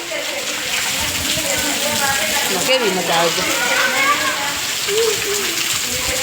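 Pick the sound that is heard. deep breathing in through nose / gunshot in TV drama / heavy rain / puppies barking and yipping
heavy rain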